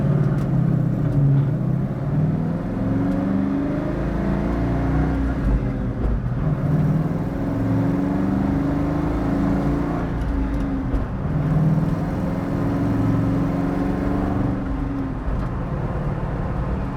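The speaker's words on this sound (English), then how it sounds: "I'm gonna engage first gear and let the clutch out." A 1965 Ford Mustang with a V10 engine revs and pulls away in first gear, its droning pitch climbing repeatedly through gears over a steady rumble, close and fairly loud throughout.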